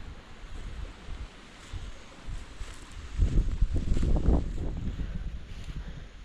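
Wind gusts through a riverside forest campsite, a steady rushing roar that builds and swells louder in the middle before easing slightly, with no voices.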